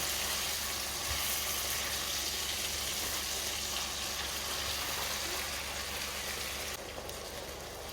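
Chicken in sour cream sizzles steadily in a frying pan just after a splash of water goes in, a continuous hissing crackle that is close and even throughout.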